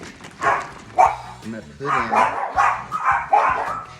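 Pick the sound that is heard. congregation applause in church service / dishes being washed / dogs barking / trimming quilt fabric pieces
dogs barking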